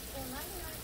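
Bratwurst sizzling on a Blackstone griddle, a steady close frying hiss with faint crackle, briefly disturbed as the links are turned, with some background voice.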